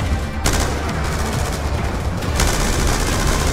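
Dense gunfire in the Call of Duty: Black Ops 2 final mission, Judgement Day, a loud continuous barrage of overlapping shots with sharp bursts standing out.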